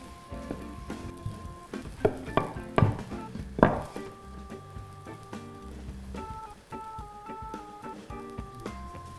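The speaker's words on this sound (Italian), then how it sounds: "E si va a cuocere in padella. Mentre la prima cuoce" Palak paratha cooking in a frying pan, a soft sizzle with a few sharper spatters and clinks near the start, set against steady tonal background music.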